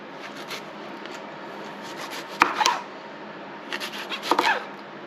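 A thick cucumber skin is peeled away by hand for pickled gherkins. Two close, quiet bursts of short scraping strokes stand out over a soft room hush.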